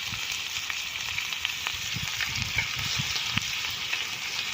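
Crab fry sizzling in a pan after the crabs were caught on a fishing trip: a steady, dense hiss of hot oil with small irregular pops and crackles, close and continuous.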